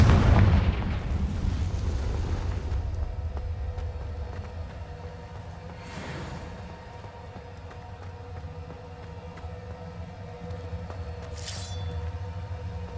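A Confringo fire spell bursts in Hogwarts Legacy with a heavy booming explosion at the start that rumbles and fades into a lingering low roar, with two fainter bursts later.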